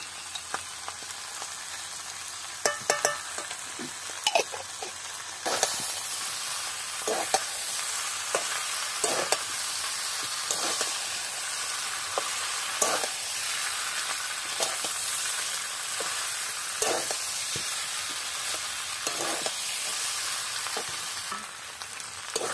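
Spices for a vegetarian potato curry (aloo dum) sauté steadily in ghee in a pan, a continuous bright sizzle broken by repeated scrapes and taps of a stirring spoon, close up and with no voices.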